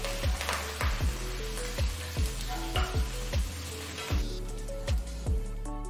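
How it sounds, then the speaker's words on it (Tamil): Chopped garlic, ginger, green chillies and curry leaves sauté in two tablespoons of oil in a pan, giving a steady close sizzle and frying crackle broken by repeated clanks of a spoon stirring against the pan. "ஒரு பேன்ல 2 டேபிள் ஸ்பூன் எண்ணெயை ஊத்தி, இதுல பொடியா நறுக்கின பூண்டு 3 பல்லு, 1 துண்டு இஞ்சி பொடியா நறுக்கினது, 2 பச்சை மிளகாய் பொடியா நறுக்கினது, கொஞ்சம் கருவேப்பிலை, இதெல்லாம் போட்டு 1 நிமிஷம் வதக்கிட்டு"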